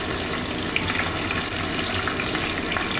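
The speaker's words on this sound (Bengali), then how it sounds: "মাছ ভাজতে গেলে তেল ছিটে যায়" A rohu fish head fries in hot oil, making a dense, loud, close sizzle and crackle that holds steady throughout, with no voices.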